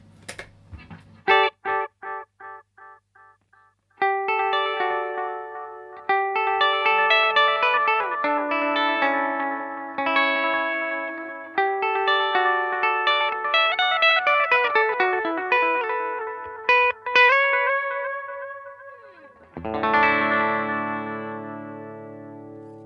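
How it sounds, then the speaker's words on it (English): Clean electric guitar notes ring out through a delay pedal with echoing repeats trailing after each phrase, a shimmering delay that swells and fades, with no talking. "I generally use this on clean sounds for sort of sparkly delay effects"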